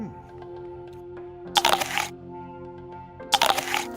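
A Washington apple is bitten twice, each bite a crisp, loud crack that lasts about half a second, heard over a soft steady musical background.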